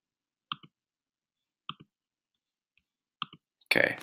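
Computer mouse clicks, three crisp double clicks spaced about a second apart in a quiet room, close and sharp, followed by a brief burst of louder handling noise.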